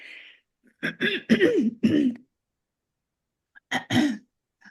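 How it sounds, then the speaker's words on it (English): A few rough throat-clearing bursts in quick succession, close and fairly loud, followed by a pause and two more brief clears. "it makes me clear my throat a lot"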